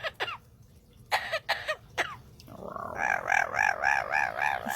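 A pet parrot imitates coughing with several short, harsh, scattered bursts, then shifts into a steady rhythmic warbling call, all close-up and fairly quiet.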